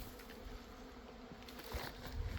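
A faint, steady hum of a swarm of bees buzzing continuously at a distance during a turkey hunt in Georgia, with light rustling toward the end.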